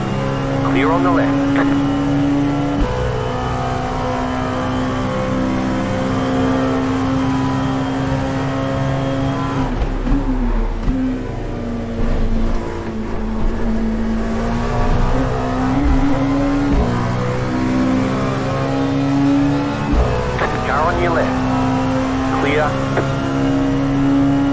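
Race cars in the iRacing sim at Daytona: a loud, sustained engine drone with shifting revs and gear changes as cars run side by side, with voices talking over it.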